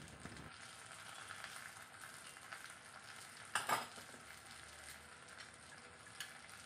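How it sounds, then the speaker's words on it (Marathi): Sliced potatoes stirred through hot oil in a pan give a soft, continuous sizzle with a few louder scraping clatters midway, quiet and close, with no voices. "तर आता हे काप मी तेलामध्ये व्यवस्थित मिक्स करून घेते."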